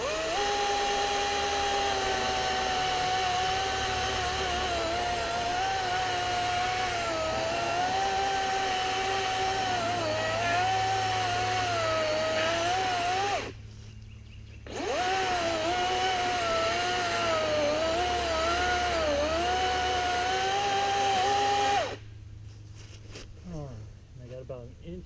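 A saw engine drones loudly and steadily while cutting the back strap to fell a tree near power lines, a house and a fence. Its pitch wavers under load, it cuts out briefly twice, then stops near the end.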